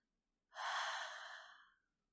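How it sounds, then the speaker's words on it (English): A slow, soft exhale of breath, close and intimate, rising quickly then tapering off gently over about a second in an otherwise quiet space. "Once again, Deep breath."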